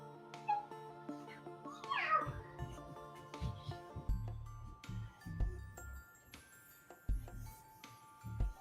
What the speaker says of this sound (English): You better not be torturing the cats.